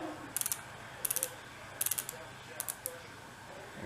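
Ratcheting clicks from a lacing dial being cranked on Clorts hiking shoes, several short bursts of rapid clicking, close and fairly quiet against a soft room background.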